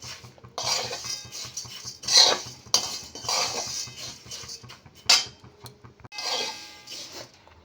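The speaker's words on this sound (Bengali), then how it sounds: "এবারে এটা অনবরত নাড়তে থাকবো" Masala chire, flattened rice, being stirred in a pan over a gas stove, with repeated scraping and clinking of a spoon against the metal in uneven bursts and short pauses, close and moderately loud without talking.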